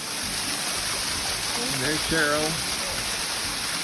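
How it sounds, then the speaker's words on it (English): A waterfall on an autumn hike, a constant hissing rush of falling water heard from its base, with a person briefly speaking over it. "Right here at the base of this waterfall."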